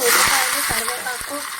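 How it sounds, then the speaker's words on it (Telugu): Cumin seeds hitting hot oil where mustard seeds are already spluttering, a loud, dense sizzling hiss with faint pops, close and steady. "ఆవాలు చిట్పట అన్న తర్వాత జీలకర్ర కూడా వేసుకుంటున్నాను"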